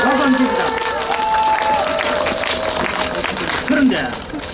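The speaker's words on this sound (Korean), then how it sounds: "자, 우리 박수 한번 칩니다." Applause and crowd noise from a street gathering during a campaign busking event in Suseong-gu, Daegu, with clapping mixed under talk and outdoor bustle throughout.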